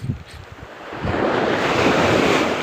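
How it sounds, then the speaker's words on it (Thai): Waves crash onto the shore under a strong coastal wind, a loud, continuous rushing surge that swells after a moment, with heavy wind buffeting the microphone. "คลื่นมันก็แบบกระทบฝั่ง"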